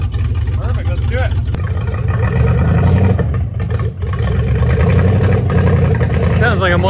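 A Dodge truck engine with no muffler idles loudly and raw up close, its deep rumble steady and then swelling a little. People talk over it throughout.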